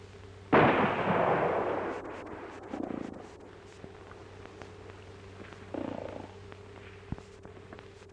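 Gunshots fired at a playing card in a 1942 western film, with a loud booming shot near the start and two quieter shots after it, all set against a steady hum of old soundtrack.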